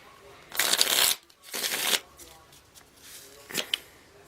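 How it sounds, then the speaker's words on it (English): Tarot cards riffle-shuffled three times, crisp papery bursts: two long close ones, a pause, then a quick short third. "3 more shuffles."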